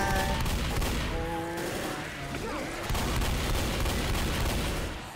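Gunfire in Left 4 Dead rattles loud and dense in a steady fusillade, with booming impacts and chaotic game noise underneath. Players' voices are mixed in.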